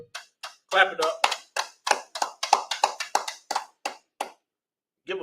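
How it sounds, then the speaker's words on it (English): A group claps hands in a steady run of about fifteen sharp, evenly spaced claps at a religious brotherhood class, loud and close, with a short voice at the end. "Clap it up."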